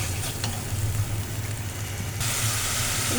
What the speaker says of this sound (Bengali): তেল গরম হয়ে গেছে, ব্যাটারটা তেলের মধ্যে দিয়ে দেব।